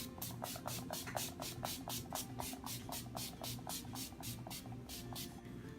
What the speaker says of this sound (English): I'm going to be using the Skindinavia, the Mega Finishing Spray and Oil Control